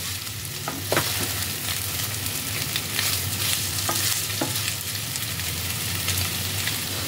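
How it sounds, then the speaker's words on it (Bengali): Paneer cubes frying in a kadai make a dense, close sizzle and spatter, with occasional louder crackles and pops as the pieces are turned. "পনিরগুলোকে এপিট ওপিট করে ভালোভাবে ভেজে নিতে হবে।"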